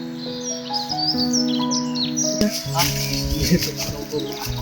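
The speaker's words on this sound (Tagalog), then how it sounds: "Ba't ang daming ibon?" Many birds, crows among them, chirp, tweet and caw together at a high mountain spot, a busy, steady chorus filling the whole stretch alongside some other sounds.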